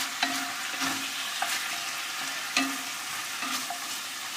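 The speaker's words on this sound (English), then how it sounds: "Let me just stir" A spoon stirs a hotpot of potatoes and vegetables in a pan, scraping and knocking in irregular strokes over a steady sizzle of frying, close and moderately loud.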